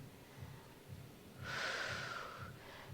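Deep breathing during a Pilates twist stretch, with a slow exhale rushing through the nose or mouth for about a second, close and quiet, without talk.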